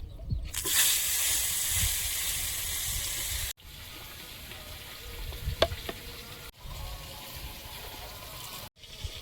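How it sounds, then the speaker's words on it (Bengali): A fish head fries in hot oil in a pan, giving a loud, continuous close sizzle and crackle, broken by a few sharp pauses and occasional knocks of a spatula. "মাথাটা ভাজা হয়েছে, ভাজার সময় একবার ভেঙে দিয়েছি, এখন তুলে নেব"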